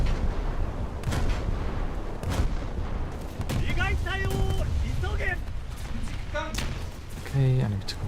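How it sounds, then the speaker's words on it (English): SKR rockets striking a naval ship in a naval combat game: repeated heavy booms and blasts over a dense rumble of gunfire, with someone talking over the barrage. "And he's being struck by SKR rockets."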